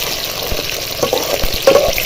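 Eggplant frying in a pan of hot oil, a steady close sizzle with occasional stirring scrapes and small pops.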